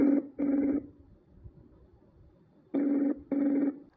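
A phone's outgoing ringback tone sounds during a call: two pairs of short electronic rings, one pair at the start and one near the end, loud and close with a quiet pause between them and no talking.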